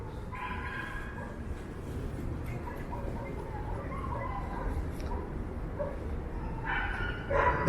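Several dogs yip and bark excitedly at a distance amid outdoor background noise, with a voice talking intermittently.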